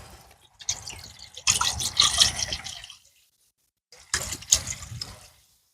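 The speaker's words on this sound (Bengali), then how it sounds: "পানি দিয়ে দিলাম।" Water is poured into a wok-style pan set on the stove for boiling pasta, two bursts of splashing and gurgling separated by a brief silence, close and fairly loud.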